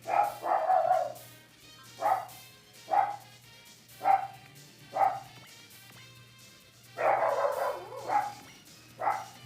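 Dogs bark repeatedly in short, evenly spaced woofs with a few longer clustered bursts, fairly close and clear over a low steady hum.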